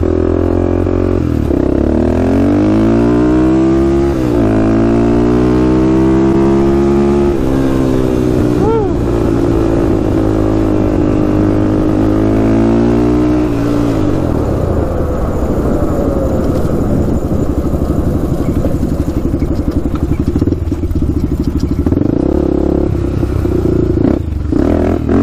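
A Honda 400ex ATV with new wheels and bearings but a bad wheel wobble rides past, its single-cylinder engine droning loudly and rising and falling in pitch as it accelerates and shifts, steady throughout.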